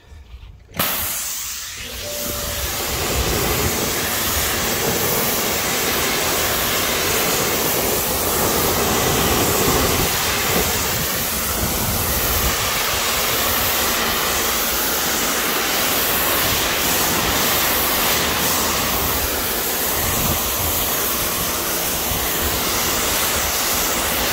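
A continuous hose spray rinses Adams Graphene Shampoo off a car, a loud, steady hiss of water lasting over twenty seconds without a break.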